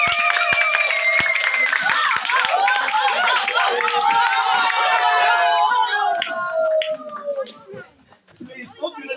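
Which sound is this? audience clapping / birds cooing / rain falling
audience clapping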